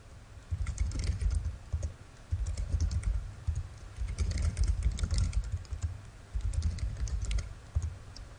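Typing on a computer keyboard while entering account details such as names, email and password, with steady bursts of keystrokes separated by short pauses and no voices.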